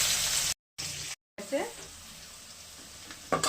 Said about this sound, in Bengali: এরকমই ভাজতে হবে লাল করে পেঁয়াজগুলো।